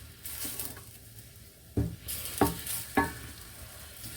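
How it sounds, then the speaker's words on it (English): Onion, chili and garlic mixture frying in a pan for a flu soup, with a steady low sizzle and a few louder stirring scrapes near the middle and end. No one speaks. "now we're ready to add the onion and chili and garlic mixture. And I'm just gonna fry this"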